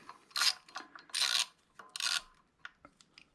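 A ratchet clicks in short bursts while tightening pressure plate bolts on a car clutch, fitted to a 472 Cadillac with a T56 six-speed. Three main strokes sound close and fairly quiet, followed by lighter clicks.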